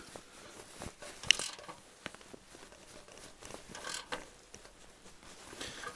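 A ratchet tightening bolts on a 1968 Regal, heard as faint, close, irregular clicking and metallic mechanical ticks in short bursts, with no talk.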